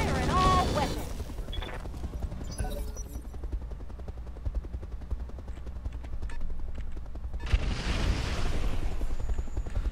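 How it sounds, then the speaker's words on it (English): Mech in the Roguetech video game firing all of its weapons at once, a dense, sustained barrage of booming gunfire and blasts that stays loud throughout, swelling with a heavier burst near the end. "Firing all weapons."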